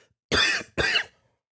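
Two harsh coughs in quick succession, close and fairly loud, with a short pause between them and silence after.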